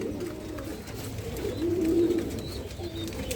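Pigeons coo softly at a pigeon farm in Mirpur, Dhaka, a low throaty rolling call rising near the middle of the clip over a steady background of rustling and other birds.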